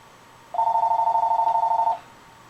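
A telephone rings once in a workshop during a support arm build, a single loud electronic trill lasting over a second against a quiet background.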